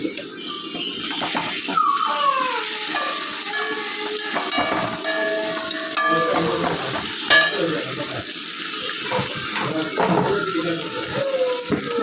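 Ginger garlic paste frying in a pan gives a continuous hiss and sizzle, with occasional scraping from stirring. The sound is close and fairly loud, with no talking.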